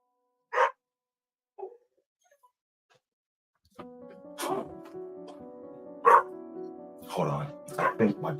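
A hurt dog yelps and whimpers in a few short high cries, then barks and whines close by under overlapping human talk.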